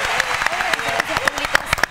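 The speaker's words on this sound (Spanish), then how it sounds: "lo vamos a hacer con un fuerte aplauso" A studio audience gives a short burst of steady clapping to welcome a municipal guest on a talk segment about building a solar tree in a park. A voice speaks over the applause.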